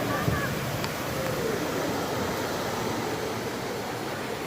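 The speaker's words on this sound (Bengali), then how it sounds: "এদিক দিয়ে দেখুন ঝর্ণা, অঝোর ধারে ঝর্ণার জল চলে আসছে।" Waterfall water pouring down steadily in the rain near a hillside temple, a dense continuous rushing wash that stays loud and even throughout with no break.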